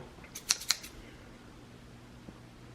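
Scissors snip through a sock being cut into a no-sew cloth face mask, two or three quick close clicks early on, then quiet room hum with one faint tap.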